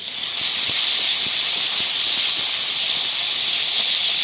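Malabar spinach seeds hit fried onions in a hot pan, giving a loud, steady, unbroken hiss and sizzle that starts abruptly and holds throughout.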